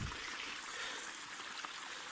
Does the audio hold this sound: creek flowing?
yes